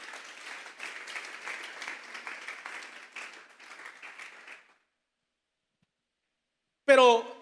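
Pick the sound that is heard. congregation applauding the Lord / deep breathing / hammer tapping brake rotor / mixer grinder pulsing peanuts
congregation applauding the Lord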